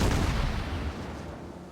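Naval gunfire from a warship in the World of Warships video game, one loud booming blast that fills the short stretch and rumbles out in a slowly fading low roar.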